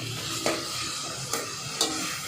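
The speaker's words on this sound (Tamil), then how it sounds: "தக்காளி அப்படியே வதங்கட்டும்" Tomatoes sauté in a hot pan with a steady low sizzle, broken by a few soft scraping strokes of a spoon stirring them at regular intervals, close and fairly quiet.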